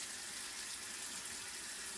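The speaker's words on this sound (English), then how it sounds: "and I'm turning on the water." Water running from a sink tap during hand washing: a steady, even hiss of flowing water, faint and constant with no talk.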